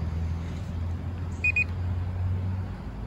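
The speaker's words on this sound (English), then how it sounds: "You can see it's beeping, or hear it's beeping." An SJRC F11 drone gives a short pair of high electronic beeps midway through, over a constant low hum.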